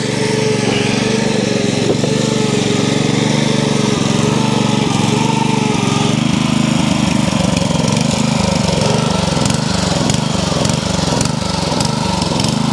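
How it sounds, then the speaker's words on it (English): A rotavator hired from Jewson's running on an allotment, its small engine chugging loudly and continuously with a rough, steady drone that shifts slightly as it works the soil, close by with no talking. "we hired a rotavator from Jewson's"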